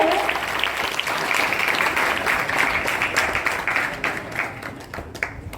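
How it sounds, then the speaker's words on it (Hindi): Loud audience applause opens a school cleanliness quiz programme, steady crowd clapping that thins out toward the end. "जोरदार ताली इस कार्यक्रम की शुरुआत के लिए।"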